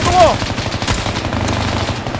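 Rapid automatic gunfire in a tactical shooter game, a loud continuous burst lasting a couple of seconds, close and dense, with voices briefly talking over it.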